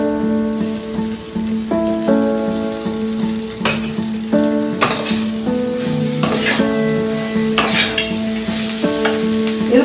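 Cumin and ginger paste frying with spices in a pan, a loud close sizzle like light rain, with bursts of hiss and scraping as the mixture is stirred; no voices.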